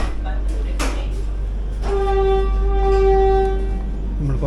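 Vande Bharat Special express from Ernakulam to Bengaluru beginning to pull away, heard from inside an AC chair car as a steady low rumble builds with rising whine tones and a loud horn-like hum, voices faintly over it.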